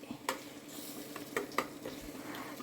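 Beaten eggs are stirred in a pan with a little oil for a spicy egg snack. Soft sizzling runs under a few distinct utensil clinks and scrapes against the pan, quiet and close.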